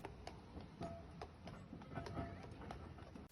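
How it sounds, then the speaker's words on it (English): Nelson the horse pulls a horse tram along the Douglas promenade on the Isle of Man, hooves clip-clopping in a steady, fairly faint rhythm over background street noise. "The next day we took the horse tram down the promenade in Douglas"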